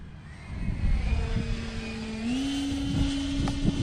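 Valkyrie 90mm electric ducted-fan RC jet plane flying on approach with flaps down, a steady whine that rises slightly in pitch over a windy outdoor background.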